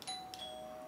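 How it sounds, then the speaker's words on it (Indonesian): A doorbell chimes with clear, ringing electronic tones that sustain and fade, fairly faint in a quiet indoor setting, with no one speaking. "Woi, rosaklah bel aku."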